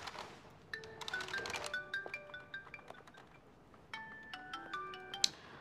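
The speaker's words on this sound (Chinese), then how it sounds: "你电话一直在响。" Mobile phone ringtone in an office, a quiet electronic melody of short repeated tones that plays for several seconds, faint in the room.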